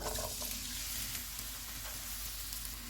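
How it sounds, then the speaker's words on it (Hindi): An onion sizzles in two tablespoons of hot oil in a pan, a continuous fairly quiet frying hiss with no voices. "ऑयल गर्म हो गया, इसमें एक प्याज डालेंगे।"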